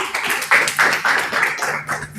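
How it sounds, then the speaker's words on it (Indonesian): Audience clapping in a classroom during a student group presentation, a short burst of several pulsing waves of applause at moderate level with no talk over it. "Tepuk tangannya sekali lagi."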